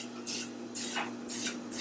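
Several short bursts of cooking oil spray hiss into a pan in quick succession, each lasting a fraction of a second, close and fairly loud over a steady low hum.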